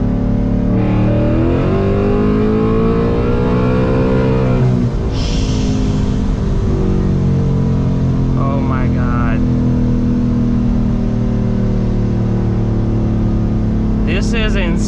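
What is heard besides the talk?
800 hp ESS supercharged S650 Mustang GT accelerating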